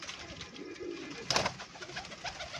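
Domestic pigeons in a loft coo softly and continuously, with a brief brighter flutter or rustle partway through; no talking.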